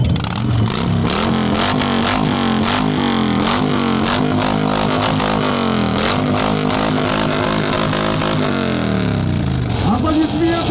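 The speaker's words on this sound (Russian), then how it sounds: "Слушаем Харлей, поехали!" A motorcycle engine, a Harley-Davidson at an old-school motorcycle festival in Kazan, revs loudly and steadily for about ten seconds, its pitch rising and falling through repeated throttle blips over a busy outdoor background.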